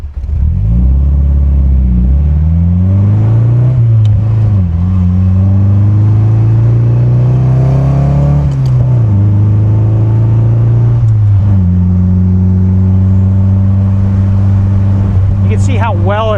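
A nearly 60-year-old Triumph TR4A British roadster engine droning loudly and steadily as the car rips around a corner, pitch rising and falling with throttle changes, with a voice talking over it.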